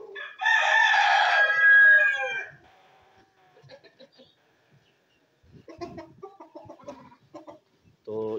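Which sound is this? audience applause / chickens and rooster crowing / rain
chickens and rooster crowing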